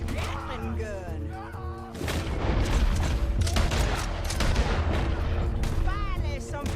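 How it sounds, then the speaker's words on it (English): Rapid gunfire from a Gatling gun in Red Dead Redemption 2, a dense continuous barrage of loud shots and booms with game dialogue voices talking over it at the start and end. "Gatling gun."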